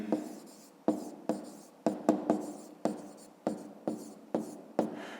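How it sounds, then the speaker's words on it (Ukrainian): A pen writes on paper during a fifth-grade math exercise, about a dozen crisp scratching strokes in an irregular rhythm, close and quiet with no talking. "Пишемо"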